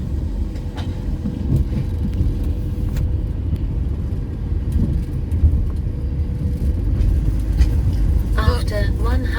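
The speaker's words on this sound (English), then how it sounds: "So this is the part where we drive off." A car rolls off a ferry platform near Calais with a steady low engine and road rumble close by, while people talk over it throughout.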